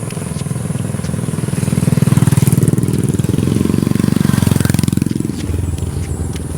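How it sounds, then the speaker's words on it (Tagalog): Motorcycle engines rumble loudly and close near a school, swelling and fading as bikes pull in one by one, with a steady buzzing idle underneath. "Ayan, pa isa-isa nang pumapasok yung mga mga motor."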